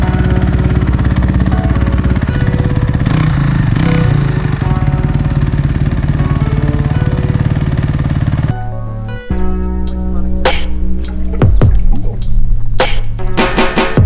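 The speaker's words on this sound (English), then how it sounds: "I just sold my CRF for a Yamaha YZ250, and this was my first real ride on it" A Yamaha YZ250 two-stroke dirt bike runs on a track, its engine droning loud and steady at first, then shifting to a sharper, revving note with rising and falling pitch sweeps and clattering bursts near the end.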